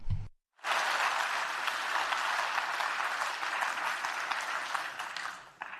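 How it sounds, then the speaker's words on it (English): Conference audience applauding Europe, a dense, steady round of clapping that starts abruptly after a brief silence, holds at an even level for about five seconds, then eases off slightly at the end. "I think a round of applause for Europe."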